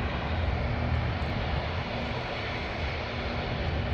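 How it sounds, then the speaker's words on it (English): Virgin Australia Boeing 737-800 airliner approaching Canberra International Airport, a steady, loud broadband engine roar that holds evenly throughout with no talk. "here comes Virgin Australia, which either with their 800 or 700, and that's definitely an 800."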